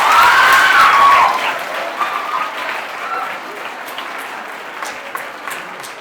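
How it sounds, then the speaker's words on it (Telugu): An audience applauds for an aunty at a Christmas celebration, with a loud burst of clapping at first that gradually thins and fades into scattered claps. "అందరూ ఆంటీ కోసం ఒకసారి గట్టిగా క్లాప్స్ కొడదామా?"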